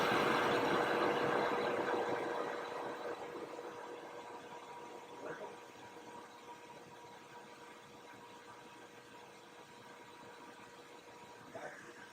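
A rebuilt jointer motor fitted with new bearings spins at about 3,800 RPM, a steady whirring hum that starts loud and eases to a lower, even drone, with a few faint clicks.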